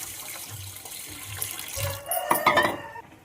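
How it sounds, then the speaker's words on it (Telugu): Water poured from a vessel into a pan of curry with salt and turmeric already added, a short splashing pour that swells for about a second near the end, following quieter kitchen clatter. "ఇందులోకి అయితే కొంచెం వాటర్ పోసేసుకుందాం"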